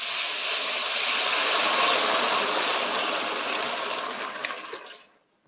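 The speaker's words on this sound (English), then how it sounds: "So I'm just gonna add some water." Water poured into a preheated wok hisses and sizzles in a steady loud rush of steam that gradually fades and stops near the end, with no talk.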